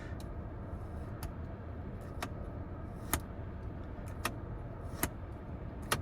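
Interior buttons in a 2024 Chevy Equinox EV being pressed one after another, a series of crisp, solid clicks about a second apart, close and distinct over a quiet cabin hush.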